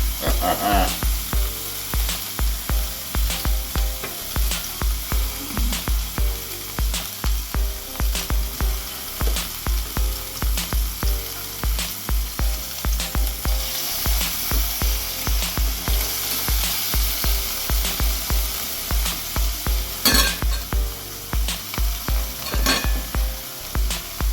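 Burger patties sizzling and frying on a hot grill, a steady bright crackling hiss broken by repeated sharp scrapes and taps of a utensil, close and continuous throughout.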